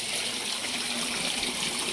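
Water draining from a concrete tilapia pond, a steady, soft rushing gush that holds at even strength for the whole moment.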